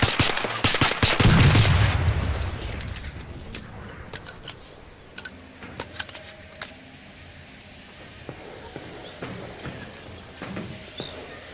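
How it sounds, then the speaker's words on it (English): Gunfire in the video game Arc Raiders: a dense burst of loud, rapid shots over the first two seconds, then scattered sharp distant cracks and pops across a quieter ambient background. "Shots coming from the east."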